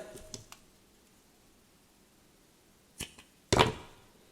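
Wire lead from the wick of a vintage Noble flat automatic petrol lighter is snipped off: a few faint clicks, a quiet gap, then a sharp close cut with a short rustle.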